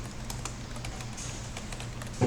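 Keys tapped on a computer keyboard, a quick run of light clicks ending in one firmer press like Enter, faint and close against a low room hum.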